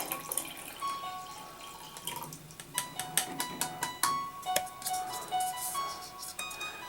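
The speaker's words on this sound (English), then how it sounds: "And then take this wine vinegar and slowly pour that in here." Wine vinegar poured slowly into a mixing container, giving a stream of small irregular drips and trickling splashes, fairly close and moderately quiet with no talking.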